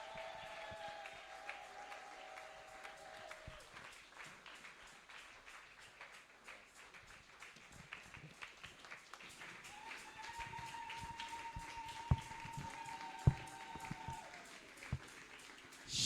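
A church congregation applauds in a steady patter of claps, moderately loud and sustained, while a held musical tone rises and falls behind it, with a few sharper claps or knocks near the end.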